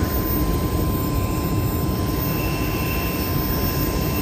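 A loud, steady charter airplane engine drone at an airport in Atlanta, with a constant roar and a faint whining tone held throughout, unbroken and with no voices.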